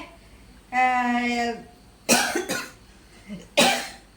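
A person makes a short vocal groan, then coughs harshly three times, with brief pauses between them, close up.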